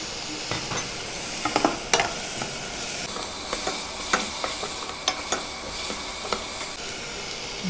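Drumstick leaves stirred in a sizzling pan for a healthy soup, a steady close frying hiss broken by repeated sharp scraping stir strokes at an irregular rhythm, with no voices.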